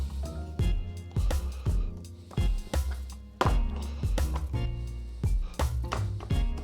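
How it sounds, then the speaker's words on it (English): A knife works through raw pork on a chopping board, giving a series of about ten firm, evenly spaced strikes and scrapes. The sounds are close and clear, with no talking. "So bring your knife a bit more parallel with your chopping board as you go, so just open it out a bit."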